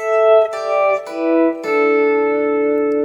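Clean jazz electric guitar sounds a few plucked intervals of a fifth in sequence, each ringing out and sustaining, played alone and close.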